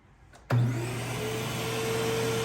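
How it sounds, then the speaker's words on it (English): A vacuum cleaner switches on abruptly and keeps running with a steady, loud whine and whoosh. "Let's turn the vacuum on first."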